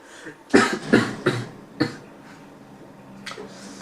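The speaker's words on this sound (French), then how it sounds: "Je tousse." A burst of several harsh coughs close to the microphone, followed by one more cough and a softer one after a pause.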